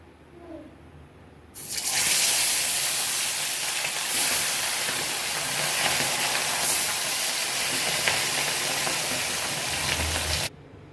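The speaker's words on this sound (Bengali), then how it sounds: "তেলটা গরম হয়ে গেছে, এখন একে একে করে মাছটি ভেজে নিচ্ছি।" Small carp coated in salt and turmeric, frying one by one in hot oil: a bright, hissing sizzle bursts in suddenly, holds steady and loud for several seconds, then stops sharply.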